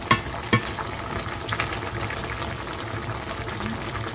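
Braised pork ribs bubble in a pot as a Vietnamese caramel-braise cooks, a steady close simmering hiss with a couple of sharp clinks of a spoon or lid near the start.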